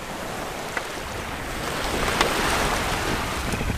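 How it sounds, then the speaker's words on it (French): Sailboat under full sail, mainsail, genoa and spinnaker set, in the Flores Sea near Java: steady rushing water and wind buffeting the microphone, rising slightly midway, with no voices. "c'est toute voile dehors qu'Amarante est en train de naviguer en ce moment"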